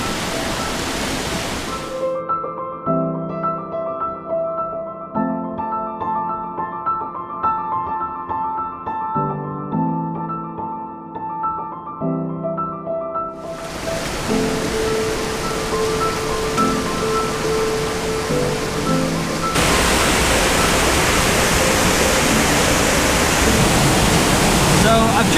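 Rushing water of a waterfall at the Fairy Pools on the Isle of Skye, a steady broadband roar that swells louder and closer in the second half after a quieter musical opening.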